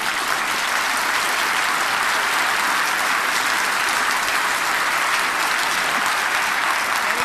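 An audience clapping together to imitate a thunderstorm during a percussion workshop, producing a dense, continuous roar of hands that holds steady at a strong level from start to finish.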